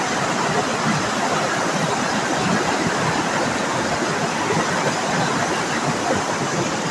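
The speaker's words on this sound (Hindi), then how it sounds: "देखिए एक वाटरफॉल है फ्रेंड्स, छोटा सा है" Small waterfall at Chandan Dhara, heard as a steady, dense rushing roar of falling water, continuous and fairly loud with no pauses.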